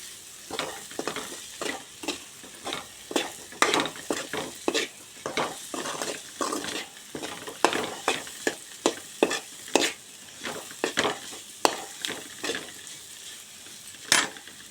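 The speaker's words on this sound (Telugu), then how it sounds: "రెబ్బలు వేసుకుంటున్నా కొంచెం హైలో పెట్టుకోండి స్టవ్" Garlic cloves frying on high flame for a potato fry, a bright sizzle punctuated by quick, repeated spatula strokes and scrapes against the pan, close and fairly steady with no talking.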